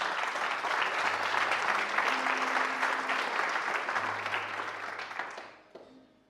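A church congregation applauds during a Portuguese sermon, a broad, continuous wash of clapping that holds steady before fading out near the end.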